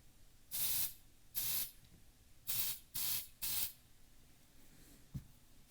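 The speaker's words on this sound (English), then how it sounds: "I have some Smoke Centurion. Give it a nice spray." Five bursts of Smoke Centurion canned test smoke sprayed from an aerosol can, loud hissing blasts of about half a second each, close by, followed by a small click.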